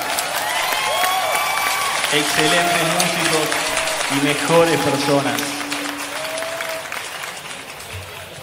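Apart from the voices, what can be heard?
audience applause for the band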